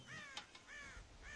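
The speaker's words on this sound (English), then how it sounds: "God damn crows!" Crows cawing in the video game Red Dead Redemption: three drawn-out, nasal caws spaced evenly apart, distant and faint, with a couple of sharp clicks between the first two.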